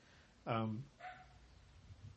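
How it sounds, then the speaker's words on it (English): Dogs bark indoors near a recliner, one loud close bark followed by a shorter fainter one, with quiet room tone afterward. "there's the dogs again. I'm just going to let them bark."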